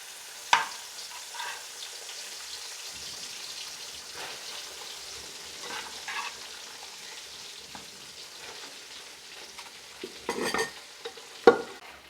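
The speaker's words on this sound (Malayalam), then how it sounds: "ബീഫ് വറുക്കാനിടുവാണ് കേട്ടോ." Beef pieces fry in sesame oil for a beef pickle, giving a soft, steady sizzle. Occasional sharp clinks and scrapes of stirring in the pan break through the sizzle.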